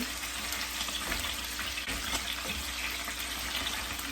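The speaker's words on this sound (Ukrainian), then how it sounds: "Ось так перевертаємо, щоб вона обжарилася нам добре з усіх сторін." Chicken drumsticks fry in a pan with a dense, steady sizzle and crackle of hot oil, loud and close throughout with a few faint clinks of turning in the pan.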